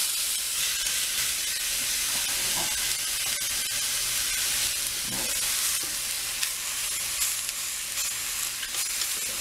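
Thawing pork chops brown in a dry pan with no oil, a steady loud sizzle and fry hiss running throughout, with a few soft shifting and scraping touches as they settle.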